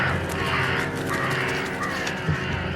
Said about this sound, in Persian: تعدادی از کلاغ‌ها غارغار کنان بیرق‌های سرخ برافراشته بر بالای عمارت شمس العماره را پاره می‌کنند